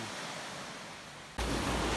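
Sea waves at the beach in Ranot, Phatthalung, form a steady windy wash of surf that swells abruptly louder partway through, close and continuous.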